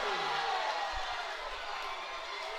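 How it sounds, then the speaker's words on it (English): A home crowd roars and cheers at a men's college basketball championship game, a sustained wash of indoor crowd noise with a few low thumps underneath. "You hear the home crowd."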